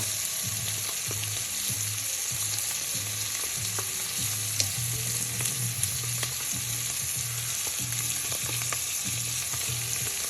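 Crushed garlic cloves sizzle steadily in a hot pan while cooking Ropa Vieja, a dense, even frying hiss running throughout with a low, rhythmic pulsing hum beneath it and a few sharp pops.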